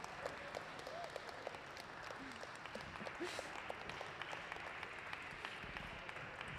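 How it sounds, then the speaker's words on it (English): Audience applause at a glassblowing demonstration: a crowd claps steadily for several seconds, dense and even, heard at a modest distance with faint voices underneath. "Let's give them a round of applause for all their hard work so far."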